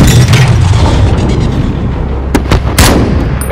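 A loud, booming explosion with gunfire during an embassy siege firefight in Call of Duty Modern Warfare, continuous heavy rumble followed by several sharp blasts and crackling shots close by.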